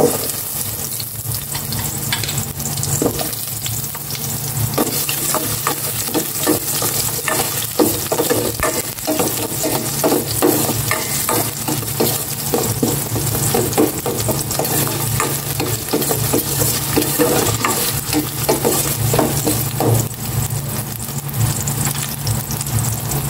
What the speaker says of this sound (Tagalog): Gisa ko na itong sibuyas.